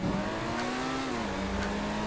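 Benefactor Krieger supercar engine in the game GTA 5 holding a steady, slightly wavering drone, the pitch easing down midway, loud and continuous with no talk.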